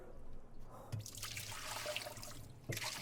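Water poured from a pitcher into a dishwasher during cleaning, a continuous splashing, trickling flow with a few drips, close by and without speech.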